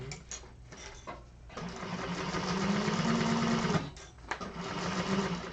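Sewing machine stitching the flap of a bag with a magnetic snap, a close mechanical whirring in bursts with short pauses between runs, no speech.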